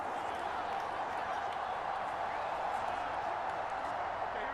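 Steady, dense stadium crowd roar from a Packers versus Giants football video game, a continuous broadband wash of many voices with no breaks, at moderate level throughout.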